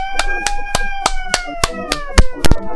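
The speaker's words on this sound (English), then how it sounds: "If you didn't hear clapping, I was clapping." One person claps hands in a steady, evenly spaced rhythm of about ten sharp, close claps, the last few louder, over a faint tonal background while someone talks.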